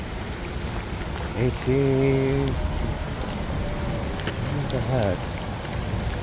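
Heavy rain falls steadily on a wooded hiking trail along the Appalachian Trail, a continuous broadband hiss that persists beneath a voice speaking briefly in the foreground.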